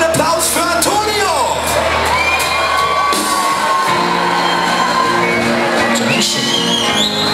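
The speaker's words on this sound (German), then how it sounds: "einen Applaus für Antonio!" A live crowd at a rock band's concert in Westerheim cheers, whoops and shouts loudly for a performer, a dense sustained roar with voices rising and falling throughout.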